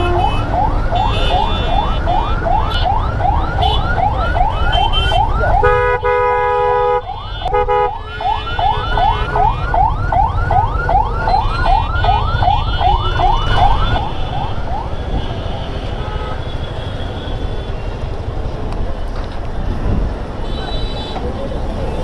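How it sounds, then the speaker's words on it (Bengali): An ambulance carrying a patient is stuck in a road traffic jam, its wailing siren sweeping up and down loudly for about fifteen seconds, broken by horn blasts, over engine rumble and people talking nearby. "অ্যাম্বুলেন্স যাইতে পারতেছে না একটা রোগী নিয়ে"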